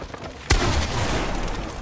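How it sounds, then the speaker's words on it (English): One sharp gunshot cracks out in a Fortnite two-versus-two boxfight, heard close over steady background game noise and voices. "last bullet, he's shooting"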